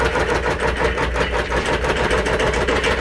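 A longarm quilting machine sews steadily, its motor giving a continuous mid-pitched hum with a quick, even stitching pulse running throughout at close range.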